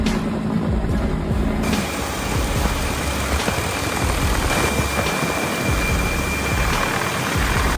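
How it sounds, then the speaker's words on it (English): A helicopter with a saw cuts a fallen tree resting on riverside power lines after a storm. A loud, steady rotor and engine drone fills the whole stretch, with no talking. "A helicopter is trying to cut it down and move it to another location."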